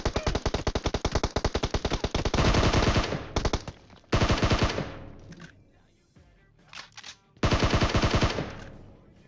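Rapid automatic M4 rifle fire in a battle royale video game, loud, continuous rattling bursts with short pauses between volleys, close and dominant, no voices.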